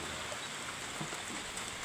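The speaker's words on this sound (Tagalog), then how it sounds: "Lakas ng ulan." Steady heavy rain hissing continuously, a dense broadband wash of falling water with no voices.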